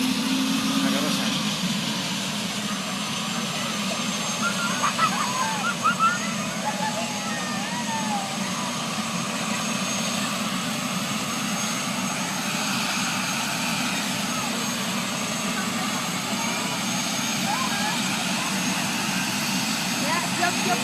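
A helicopter with an engine fault runs with a steady mechanical roar and whine at moderate distance, while people talk intermittently over the engine noise.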